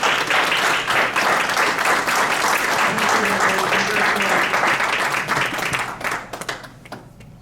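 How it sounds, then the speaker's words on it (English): An audience at the Iroquois Legends Ceremony applauds in a dense, sustained burst of many hands clapping that holds strong and then thins out into scattered claps near the end. "Let's give them a hand of applause again."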